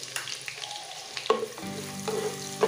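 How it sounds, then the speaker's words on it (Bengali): Two small chopped local onions fry in a pan for Bengali pulao, sizzling quietly while a utensil stirs and scrapes with a few clear knocks. "পেঁয়াজটাকে কিন্তু অবশ্যই একদম ভালো করে কিন্তু ভাজতে হবে।"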